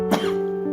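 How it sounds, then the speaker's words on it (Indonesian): One short throaty cough from a woman leading a devotional reading, close and fairly loud, with a slight throat-clearing tail and no talk. "Maaf, batuk sedikit."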